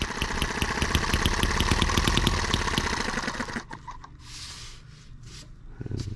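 A flooded M18 engine sputters and runs roughly in fast, uneven firing pulses for a few seconds, then dies away into quieter mechanical noise and faint rustling.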